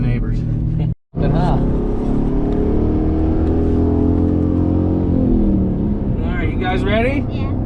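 A Chevrolet Traverse accelerating on a neighborhood road, a steady loud engine drone heard from inside the car and rising in pitch, with people talking over it.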